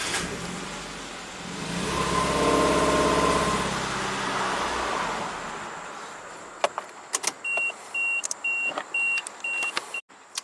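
A 2008 Suzuki SX4 with low power runs rough during a cylinder 3 coil test, swelling to a loud rumble before fading and stalling out, followed by scattered clicks and a repeating electronic beep.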